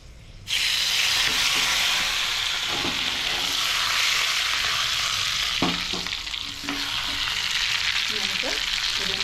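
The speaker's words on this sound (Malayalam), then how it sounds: "ഇനി നമുക്ക് രണ്ട് വറ്റൽമുളക് ഇടാം" Dried red chillies dropped into hot oil for tempering Kerala sadya-style sambar, a loud steady sizzle and crackle that starts suddenly and carries on close up with faint stirring clinks.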